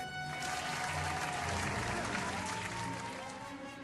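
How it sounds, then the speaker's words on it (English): A crowd cheering and clapping for Imperial forces in an alternate Star Wars scenario, a dense continuous roar that stays even throughout and eases slightly at the end, with a faint voice under it. "The crowd cheers as Imperial forces prepare for yet another war"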